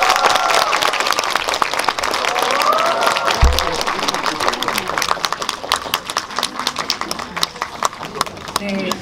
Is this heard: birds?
no